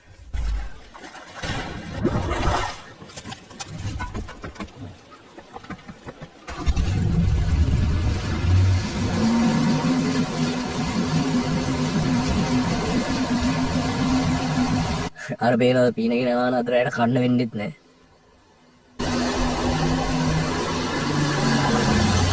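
A boat engine in the video game Far Cry 3 drones steadily at mid volume for long stretches, broken by brief cuts, with someone talking over parts of it.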